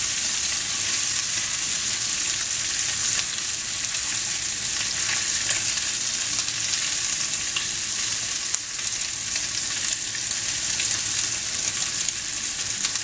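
Lamb chops sizzle in a skillet with a loud, steady, close-up frying hiss that runs unbroken for the whole stretch, with no talking.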